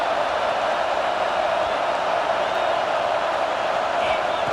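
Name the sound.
stadium crowd noise in EA Sports College Football 26 video game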